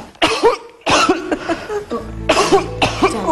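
A person in a Filipino household coughs hard, four or five harsh bursts in close succession, loud and near.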